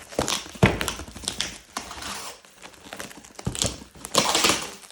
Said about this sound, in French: on renforce tout ça